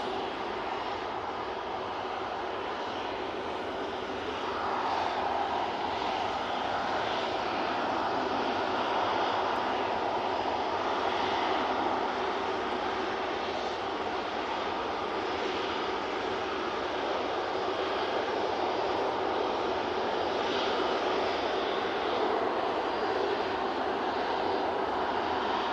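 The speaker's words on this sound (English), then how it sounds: "we do have a prop about to touch down" A Loganair ATR turboprop touches down and rolls out at Manchester Airport, a steady broad engine and propeller roar held at moderate distance for the whole stretch, with no talk over it.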